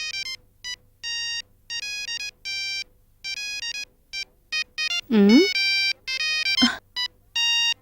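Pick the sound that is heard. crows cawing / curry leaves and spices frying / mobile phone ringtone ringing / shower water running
mobile phone ringtone ringing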